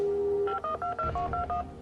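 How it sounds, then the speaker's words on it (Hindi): Touch-tone digits are dialed on a telephone on a televised quiz show, a steady tone first, then a quick run of about seven short beeps at an even rhythm, close and clear. "तो उनको फोन लगाया जाए"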